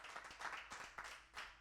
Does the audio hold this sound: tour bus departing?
no